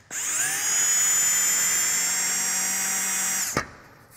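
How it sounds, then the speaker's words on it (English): A power drill runs at slow speed, boring a rivet hole for a nut plate in a Zenith Super Duty instrument panel, one steady whine for about three and a half seconds that stops abruptly, close and loud. "let's drill the other one. And I always put my drill on a slower speed too"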